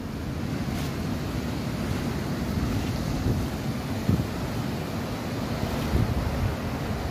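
Ocean surf rolls in steadily at Manchuria Beach in Gunung Kidul, Yogyakarta, heard from the clifftop above, with constant wind buffeting the microphone and a broad, continuous wash of waves.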